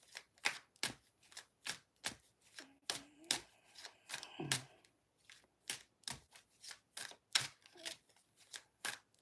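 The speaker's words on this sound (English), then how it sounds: "I got more tarot decks in, so I got to shuffle all those" Cards riffle and snap in a steady run of short, crisp bursts, close and quiet, with brief rustles between them.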